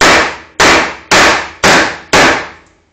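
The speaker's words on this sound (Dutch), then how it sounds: "Ik ga even een hamer pakken hoor." Five loud, sharp impacts strike at an even rhythm as a hammer smashes an iPod, each a hard crack with a quick decaying ring.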